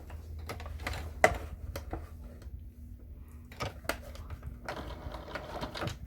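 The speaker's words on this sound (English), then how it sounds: "This is the part that we're sewing right here, right now" A sewing machine top stitches a fabric wallet with card slots and a zipper an eighth of an inch from the edge, giving bursts of quick mechanical ticking with short pauses and a faint steady motor hum.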